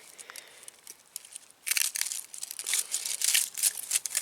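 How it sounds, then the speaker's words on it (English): Hand pruners snipping a dahlia stem in a garden, close, soft crunchy cuts and crinkling leaf rustles, quiet at first and then a denser cluster of snapping and rustling sounds. "I'm going to get my pruners here. And I'm just going to cut this stem here."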